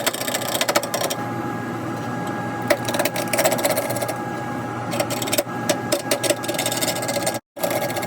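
A wood lathe turns a white oak and walnut segmented bowl supported by the tailstock, a steady mechanical whir with a high tonal hum, interrupted by brief scraping cuts and a short dropout near the end.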